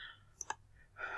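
A computer mouse gives a right click, heard as a quick pair of light, close clicks between soft background noises in a quiet room.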